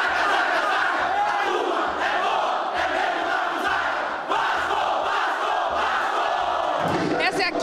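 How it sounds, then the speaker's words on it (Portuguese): Vasco football supporters chant and shout war cries as a large crowd, a dense, loud, continuous roar of rhythmic singing with bursts of shouting throughout. "entre cantos e gritos de guerra, a torcida vascaína não perdia a alegria de esperar pelo time do coração"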